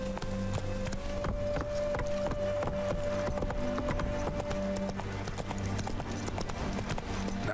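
Horse hooves galloping steadily in The Witcher 3: Wild Hunt, Heart of Stone, a continuous rhythmic clip-clop of a running horse over game music, loud and close throughout.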